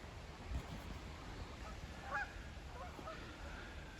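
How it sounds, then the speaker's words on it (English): Canada geese in a large flock honk while coming in to land, several calls rising faintly over steady wind and outdoor rumble, fairly distant rather than close. "So the geese are all kind of coming in, the Canadian geese."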